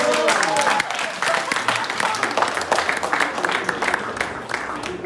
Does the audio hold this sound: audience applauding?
yes